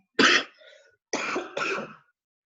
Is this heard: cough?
yes